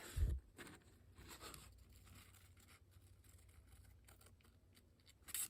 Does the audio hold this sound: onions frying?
no